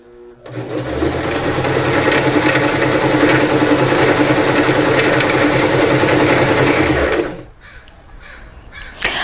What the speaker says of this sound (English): I can start winding the rest of my bobbin